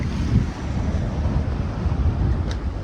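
Wind and waves on the Thames Estuary rush around a Contessa 26 sailboat on a solo crossing, giving a steady roar of gusts and sloshing water with no talking.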